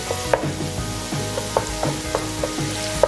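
Ginger garlic paste sautés in a pan for a liver fry, a steady close sizzle with regular clicking taps of a spoon stirring against the pan roughly every quarter second.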